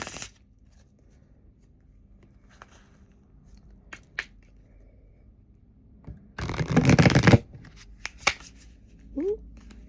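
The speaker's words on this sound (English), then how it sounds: "that was a horrible shuffle" Tarot cards shuffled by hand for a morning reading: a few faint riffles and taps, then a loud burst of rapid fluttering shuffling near the end, with brief voice sounds afterward.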